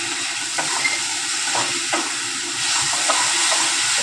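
Chickpeas tossed into spices frying in a pan for chana masala give a steady loud sizzle and hiss, with light stirring scrapes throughout.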